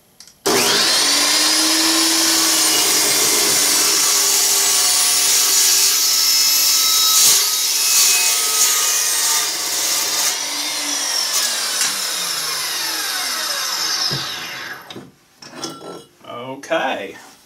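A power saw cuts through a metal stool leg with a loud, continuous high-pitched grinding whine that lasts about fourteen seconds, then winds down, followed by a few scattered clanks.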